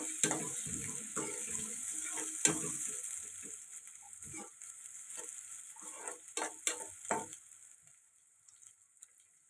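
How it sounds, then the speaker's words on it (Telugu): Sliced onions sizzling in a pan for a vanjaram fish curry, a bright steady hiss with intermittent scraping stirs and clinks, fading quieter toward the end. "కొద్దిగా ఇంకొద్దిగా ఫ్రై అవ్వాలండి ఉల్లిపాయలు"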